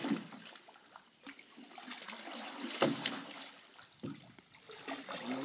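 Canoe paddle strokes demonstrating the C stroke, with soft splashes and water swishing as the blade pulls, close and uneven, with a couple of sharper dips and no talking.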